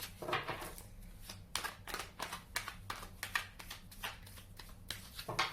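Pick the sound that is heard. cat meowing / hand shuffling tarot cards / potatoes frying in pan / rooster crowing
hand shuffling tarot cards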